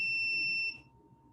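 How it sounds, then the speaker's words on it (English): A car-detector buzzer mounted for a bicycle sounds a steady, loud electronic tone, which cuts off abruptly partway through and leaves a faint background hum. "it turns red, it turns on the buzzer"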